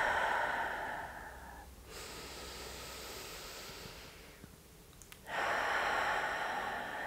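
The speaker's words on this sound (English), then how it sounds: "just take 3 deep breaths here" Slow, deep breaths during a yoga session, close and soft, with long airy inhales and exhales separated by quieter pauses and no talking.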